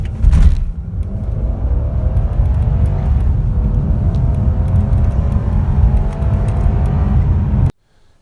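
A Lexus GS430 car accelerates hard from 0 to 60, a loud, close engine roar rising steadily through the gears before cutting off abruptly at the end.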